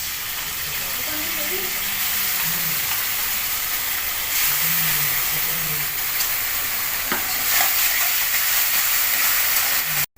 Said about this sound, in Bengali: এবার আমি টমেটো কুচিটা দিয়ে দিচ্ছি। টমেটো কুচিটা দিয়ে দিচ্ছি, একটু নেড়ে নেবো, দিয়ে দেবো।